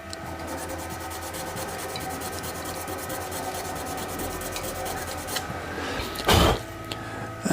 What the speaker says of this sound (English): I'm just going to go in and give this little edge a little bit of a sand up